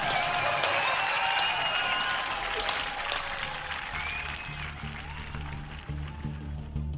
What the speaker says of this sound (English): Applause all round, they deserve it.